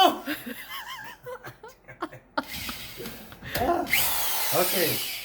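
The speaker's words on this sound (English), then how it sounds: "I gotta get a smaller drill" A handheld power drill whirs in short bursts mixed with laughter and exclaiming voices, the motor whine rising loud near the end of the clip.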